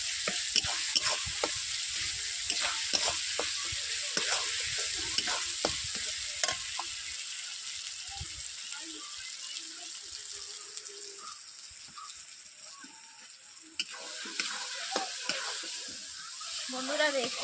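Ginger, garlic and spices sauté in a pan for a Bengali green jackfruit (echor) curry. A steady sizzle runs throughout, with repeated scraping and clinking from a stirring utensil that thins out midway and returns near the end.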